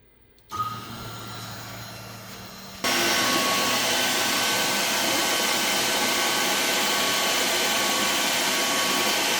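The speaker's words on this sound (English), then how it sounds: "we'll turn the vacuum on in a second" A motor whirs on at low level, then jumps to a loud, steady roaring drone of a vacuum cleaner that runs continuously without change.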